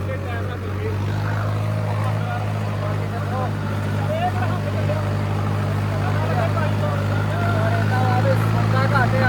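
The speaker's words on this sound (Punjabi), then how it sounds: "ਮੈਂ ਵੀ ਚਲਾ ਕੇ ਵੇਖਣਾ ਟਰੈਕਟਰ" A new 4x4 tractor engine drones and rumbles steadily and continuously at close range in a field, with people talking over it.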